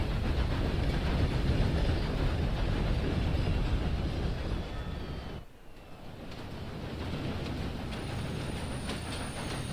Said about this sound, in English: Aber wenigstens fahren wir mit dem Zug.